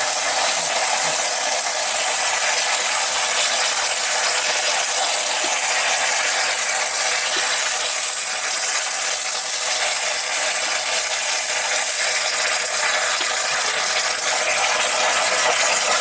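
A steam launch engine from the Midship boat starts up with a continuous loud hiss of steam and a fast mechanical ticking, steady throughout with no voices.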